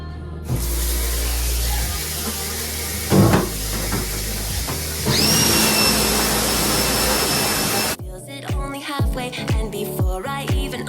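A power washer bought for cleaning screen-printing screens roars with a steady, loud hiss for about seven seconds, its pitch rising partway through, then cuts out abruptly and leaves scattered clattering.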